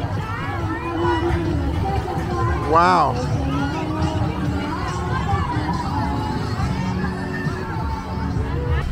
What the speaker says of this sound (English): Look at the crowd out there.